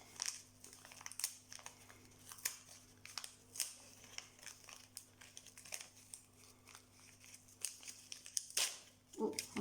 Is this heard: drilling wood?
no